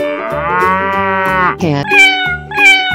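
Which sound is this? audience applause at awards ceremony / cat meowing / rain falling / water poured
cat meowing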